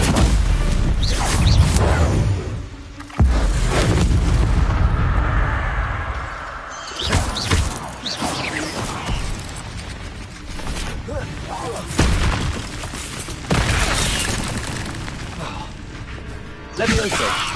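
Spell blasts such as Confringo in Hogwarts Legacy, a series of loud booming impacts and whooshes scattered through combat, with a person talking over them.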